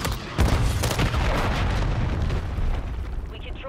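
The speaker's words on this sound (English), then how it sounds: "Friendly cruise missile deployed." A friendly cruise missile strike in a Call of Duty match, heard as a loud, rumbling run of explosions with sharp bursts and booms that fade into a lingering roar.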